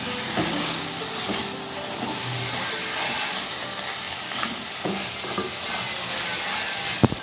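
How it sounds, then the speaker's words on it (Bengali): Tomato sauce masala for chicken Kolhapuri fries with a steady sizzle while a spoon stirs and scrapes the pan in irregular knocks, close and continuous, with a sharper clack near the end. "তারপর আমরা ভালো করে এটাকে কষিয়ে রান্না করে নেব"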